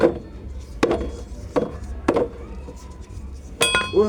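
Hammer striking a nail into wood during farm work, five or six sharp separate knocks spaced unevenly at close range, with faint background noise between blows.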